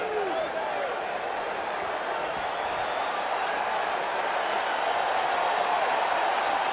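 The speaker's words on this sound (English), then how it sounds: "this crowd came here to make some noise tonight" Baseball crowd at Shea Stadium during the 1986 World Series Game 6 between the Red Sox and Mets, a steady, distant wash of cheering and applause under faint commentary.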